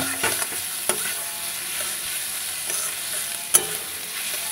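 Green chilies tossed into onions frying in a home kitchen pan, giving a steady hiss of sizzling with a few sharp stirring clicks and scrapes, one louder clatter near the end.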